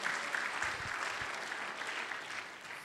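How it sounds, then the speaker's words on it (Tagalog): A church congregation at a livestreamed service applauds, a steady dense wash of clapping that holds for the whole stretch, faint and slightly distant, with no talk over it. "Lakasan niyo yung palakpak niyo para malaman nilang alam niyo yung Bible."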